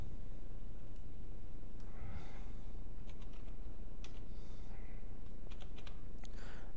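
Computer keyboard keys tapped in short scattered bursts while an amount and other details are entered on a panchayat electricity payment portal, faint clicks over a steady low hum.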